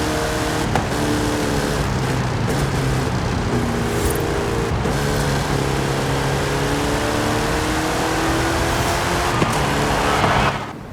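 Race car in the video game Forza 5 droning steadily at high revs through a loop, a loud continuous engine note with brief shifts and swells, no talking.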